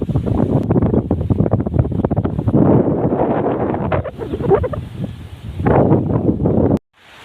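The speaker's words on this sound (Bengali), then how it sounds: "আচ্ছা, বাতাস, প্রচুর বাতাস হচ্ছে" Strong wind blows just before rain, buffeting the microphone in loud, continuous roaring gusts that cut off abruptly near the end.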